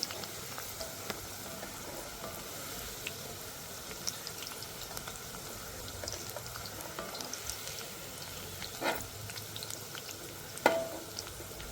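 Okra pieces fry in hot oil for a chicken curry, a steady soft sizzle with faint stirring scrapes and a couple of louder clinks near the end, no talking.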